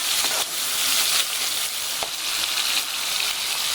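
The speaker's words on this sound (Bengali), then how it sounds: "টমেটোটা প্রায় ভাজা হয়ে গেছে" Chopped tomato with a little turmeric sizzling in a pan over medium flame, a steady close frying hiss broken by a few soft stirring scrapes, with no voices.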